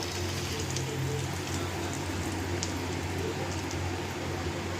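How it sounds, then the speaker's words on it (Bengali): Eggs coated in gram flour frying in hot oil, a dense, steady crackling sizzle with a continuous rain-like hiss and no voices. "তেল গরম হয়ে গেছে। এবার এক এক করে আমি ডিম ছাড়বো।"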